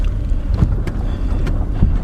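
A jet ski speeding across a lake, heard as a low, rumbling engine drone from a distance over the water, with wind buffeting the microphone.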